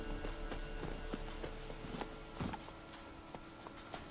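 The horse Roach's hooves clip-clop in a steady running rhythm within The Witcher 3, fairly faint beneath a constant ambient game backdrop with no talking.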